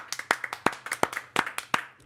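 A small group of people in a room claps in scattered, uneven bursts, a few distinct hand claps close by with quieter ones around them, brief and lively.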